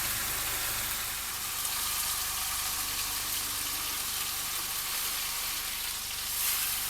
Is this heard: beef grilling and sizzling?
yes